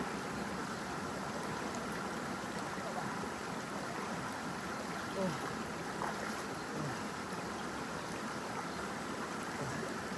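Cold river water flows in a steady, continuous wash close by, with no pause and only faint small splashes through the rushing sound.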